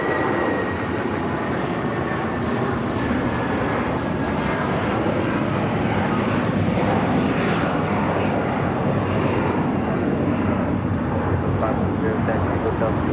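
A fixed-wing airliner takes off from runway 25 right at LAX, its engines producing a steady, loud broadband roar that fills the whole stretch without a break.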